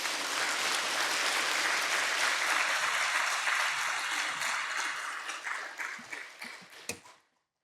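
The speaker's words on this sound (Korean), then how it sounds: "하나님께 영광의 박수를 올리면서" A church congregation applauds to welcome a visiting pastor, a dense sustained wash of many hands clapping that thins into scattered claps before fading out.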